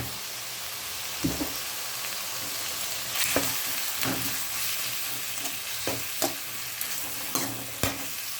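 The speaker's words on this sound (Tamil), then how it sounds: "அதோட உப்பு, கல் உப்பு போட்டு வதக்கிடலாம்." Chopped tomatoes with rock salt sauté in a pan for chicken kulambu, giving a steady soft sizzle broken by repeated stirring scrapes and knocks of a spoon against the pan.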